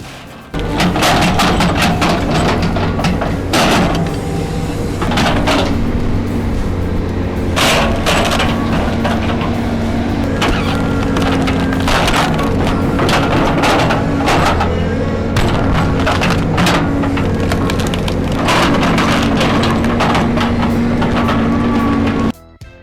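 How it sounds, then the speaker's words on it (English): A firewood processing machine splits and cuts rough logs into posts and stakes, a loud and continuous mechanical roar punctuated by repeated sharp cracks and heavy thumps, close and without talk. "It swiftly turns rough logs into perfect posts and stakes with incredible speed."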